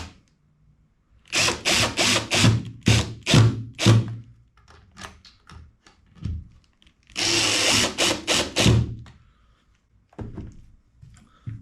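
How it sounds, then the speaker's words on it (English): A power drill drives a screw into wooden model railroad benchwork in loud, close bursts. Several short pulses come first, then a longer sustained run with a few brief spurts after it. Quiet gaps separate the bursts, and no one talks. "I'll use the same fingernail trick to make sure that this is about lined up before I start driving my screw."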